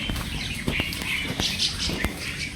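Many birds chirp and flap their wings in an old cemetery, with scattered high calls and sharp wing-beat bursts over a steady outdoor background.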